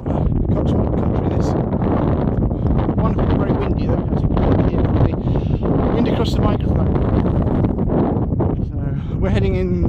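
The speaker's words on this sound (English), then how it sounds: "Proper Cotswold country, this. Wonderful, very windy though." Gusty wind sweeps across open Cotswold fields on a country walk, a steady loud roar of microphone buffeting that persists for the whole stretch, with faint voice fragments beneath it.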